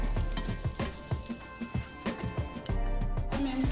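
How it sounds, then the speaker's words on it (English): Okra sizzles and crackles in hot grease for New Orleans smothered okra, a steady close-up frying hiss with irregular pops and bursts. "Grease bubbling. It's hot. Okra is going in and it is sizzling."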